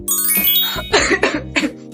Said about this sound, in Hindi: इतनी खांसी हो गई है